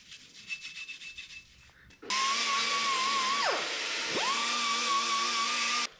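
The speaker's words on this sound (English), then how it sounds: "I'm just gonna give it a scuffing where we can shoot her with a fresh coat." An automotive part for a 1930 Model build is scuffed by hand before painting, with a few seconds of rhythmic rubbing strokes followed by a loud, steady power-tool whine that dips in pitch midway, then stops.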